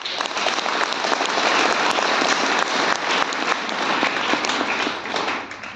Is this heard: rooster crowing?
no